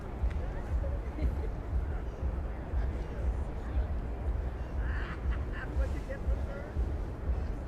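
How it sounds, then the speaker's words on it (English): A goose honks and squawks during a scuffle on a busy New York City street in the evening, its calls rising briefly over steady traffic rumble, with people talking nearby. "What did that goose do to you?"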